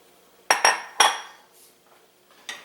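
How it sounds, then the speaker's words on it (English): An old notched wooden spoon tapped against the edge of a pan, three sharp close knocks in quick succession, then a fainter fourth tap after a pause. "one of my ancient wooden spoons that has notches on it from tapping on the edge of the pan"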